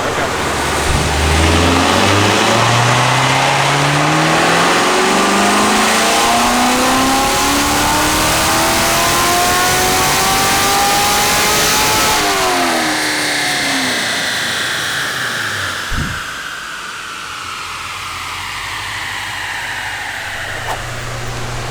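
Car engine with an AFE cold air intake revving hard, pitch sweeping up and down through several loud pulls before dropping to a lower idle, up close and sustained.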